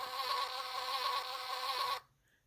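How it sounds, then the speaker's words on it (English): Buzzing bees from an interactive sound book button, a thin steady electronic hum that plays for about two seconds and then cuts off abruptly into near silence. "the bees buzz Happy Easter back"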